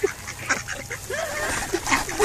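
A flock of ducks quacking and honking nearby, a busy overlapping chorus of calls that grows louder toward the end.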